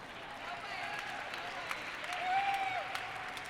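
Audience applause fills the room at an awards dinner, a steady wash of clapping throughout that swells slightly toward the end.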